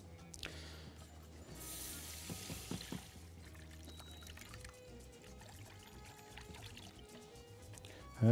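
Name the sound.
pouring milk into a casserole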